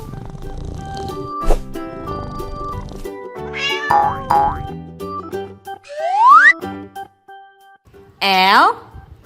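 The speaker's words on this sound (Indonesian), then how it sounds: "K untuk kucing." Cartoonish cat meows with rising, sliding pitches play between bouncy musical tones and sound effects. Each cry is loud and clear, mixed into a playful children's soundtrack.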